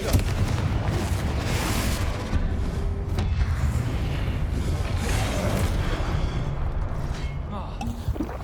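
Fiery blasts of the Confringo explosion spell in the Hogwarts Legacy video game, several booming bursts with crackling debris spread across the clip amid ongoing game effects.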